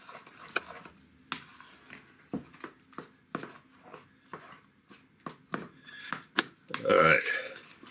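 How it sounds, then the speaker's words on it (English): A spoon stirs a rice, fig, walnut and brandy pudding mixture in a bowl, making a string of irregular close clinks and taps with a brief scraping swirl near the end. A voice is also present. "Now mix it all together."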